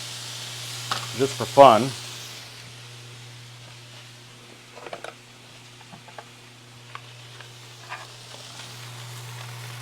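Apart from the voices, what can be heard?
Wagyu steak searing on a hot grill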